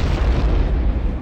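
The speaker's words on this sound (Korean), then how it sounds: "폭발 사고가 일어났는데" Explosion aboard a high-speed passenger train travelling from Naples to Milan, a loud, dense, low rumbling blast that fills the whole moment without pause.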